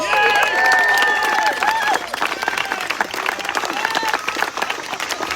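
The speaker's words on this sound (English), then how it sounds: "give yourself a round of applause" A crowd breaks into loud applause, with cheers and shouts over it, dense clapping that eases off slightly after a couple of seconds but keeps going.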